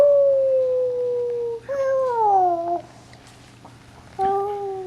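A child imitates a wolf howl with two long wavering vocal howls, then a shorter third one after a brief pause, close and clear.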